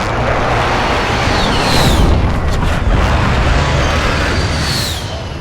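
Deep booming airstrike explosions rumble in Call of Duty: Modern Warfare, a broad roaring blast swelling near the middle and fading out, loud and close with no talk over it.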